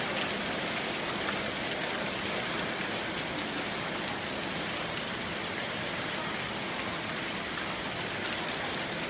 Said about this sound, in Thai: ตอนนี้ที่โรงเรียนฝนตกหนักมากนะครับ